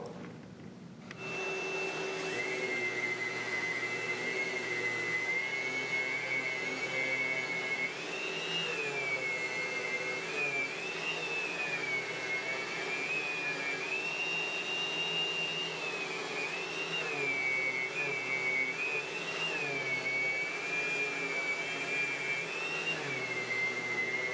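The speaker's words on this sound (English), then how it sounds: "since I'm a professional, I'm going to do it with the orbital" An orbital sander working the edges of a guitar body: a steady, close whirring whine with a sustained high tone that wavers slightly as pressure shifts, running continuously after a brief start.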